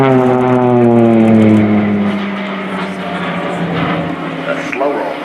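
A Pilatus PC-7 propeller aircraft of the Swiss Air Force display team flies a slow roll at an air show, its engine drone sweeping down in pitch as it passes close and loud, then fading.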